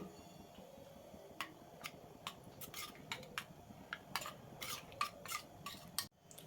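A spoon knocks and clicks against a container in faint, irregular taps while custard powder is stirred into raw milk, over a quiet hiss of room tone.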